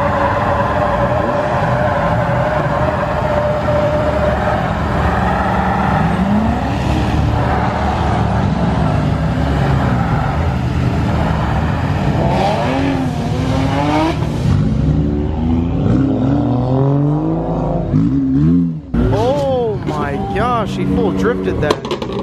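Cars revving and drifting at a car meet that turns into a takeover, with engines roaring and climbing in pitch near by, tyre noise and a crowd cheering and talking throughout.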